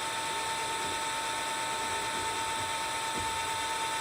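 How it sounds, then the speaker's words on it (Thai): A drill bores into a metal workpiece at a center-punch mark during bench metalwork practice. It gives a steady, unbroken mechanical whine and hum, close and constant from start to end. "ในการเจาะเนี่ย ให้เจาะตรงตาม จุดนำศูนย์ที่ตอกนำศูนย์ที่เรา ตอกไว้"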